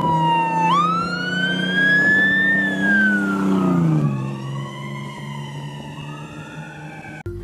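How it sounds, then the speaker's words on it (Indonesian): A fire truck siren wails loudly and up close, its pitch sweeping up and then gliding back down in long, smooth rises and falls. "lihat teman-teman, di sini ada mobil pemadam kebakaran"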